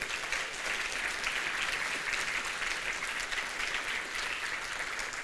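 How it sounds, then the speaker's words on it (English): A conference crowd at React Native EU claps for the makers of an animation library, an even wash of many hands applauding steadily at moderate distance, with no one speaking over it. "we can give a round of applause to them"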